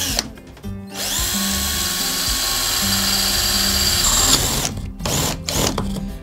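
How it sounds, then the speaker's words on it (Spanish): An electric drill bores the last hole in a homemade foosball table, a loud steady high-pitched whine lasting several seconds, with brief knocks and handling noise before and after. "pues haz el último agujero, Juan"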